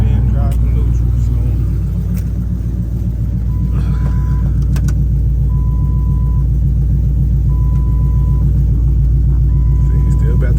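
Deep, loping idle of a cammed Ford Crown Victoria V8 in neutral, a loud uneven rumble with a choppy pulse running throughout, recorded close, with a faint beeping tone repeating in the background.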